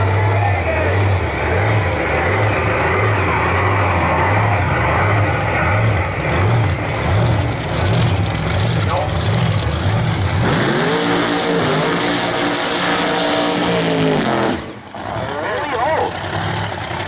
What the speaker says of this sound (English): Now I can hear some big horsepower coming up under the tower.